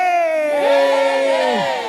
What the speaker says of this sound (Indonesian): Mari berikan sorak-sorai yang meriah bagi Tuhan kita